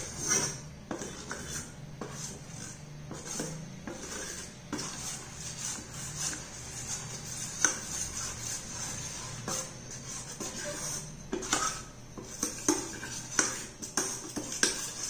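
Potato starch and a little water are stirred in a container, with spoon or utensil clinks and scraping against the sides coming in uneven bursts, close and fairly quiet, with no talking.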